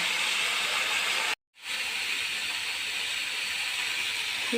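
Water boils in a cooking pan with a steady, loud hiss, broken by a brief cut near the start, then continuing unchanged to the end.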